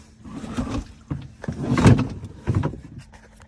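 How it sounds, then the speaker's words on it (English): The seat of a Honda Pioneer 1000 Limited Edition side-by-side pops out with a few short plastic clunks and knocks, close and fairly loud, with no talk. "Seat does pop out pretty easily"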